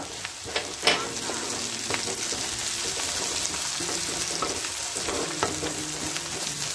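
Onions with fresh curry leaves sauté in a pan for an egg podimas, a steady close sizzle broken by irregular scraping stirs of a spatula, with no one talking.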